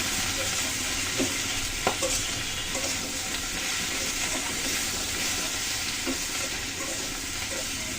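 Onion stalks fry in a wok with salt while being stirred, giving a constant loud sizzle with occasional scrapes and knocks of a spatula against the pan.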